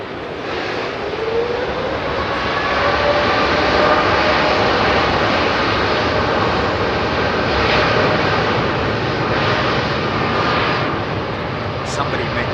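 Boeing 787 Dreamliner jet engines at London Heathrow, a loud, continuous broadband roar that swells slightly and holds steady, heard close with no distinct voices over it.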